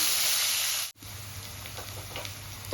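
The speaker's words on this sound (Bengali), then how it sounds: "আমার আলুটা ভাজা হয়ে গেছে" Potatoes frying in oil in a home kitchen for a Bengali fish curry, giving a steady close sizzle with a sharp break near one second before the crackling resumes.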